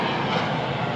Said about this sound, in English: just as the airplane passes over me